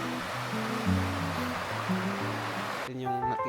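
A river near a snowy hot spring in Gunma, Japan, rushes steadily as a steady broadband wash, carrying off fallen chunks of ice, with melodic background music layered over it before the water noise drops away near the end.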